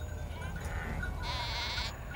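Sheep bleating in a field worked by herding dogs, a few faint calls under steady outdoor rumble, with a voice speaking at the same time.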